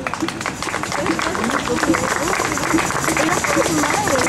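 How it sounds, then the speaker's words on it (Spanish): A church congregation applauding Jesus Christ during a sermon, a sustained, even wash of many hands clapping amid crowd murmur and voices, steady and fairly loud for several seconds. "Dale un aplauso a Jesucristo."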